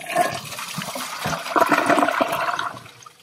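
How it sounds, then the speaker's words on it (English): An American Standard toilet flushes a cup of Cheerios with a close, loud rush of swirling water. It drains into a gurgling refill trickle. "Flush two of one cup of Cheerios with the American Standard."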